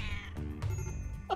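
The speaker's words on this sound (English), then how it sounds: "it meows." A cat in the video game RimWorld meows in a short, drawn-out call, followed by a second rising meow at the very end; no one speaks.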